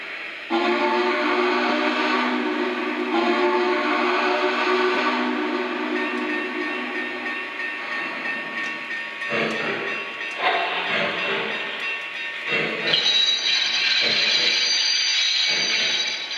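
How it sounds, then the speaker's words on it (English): A Lionel Vision Line toy train hauling stock cars runs steadily, with sustained electronic whistle and horn tones sounding loudly over its rumble, shifting pitch several times. "we're ready to get this train underway"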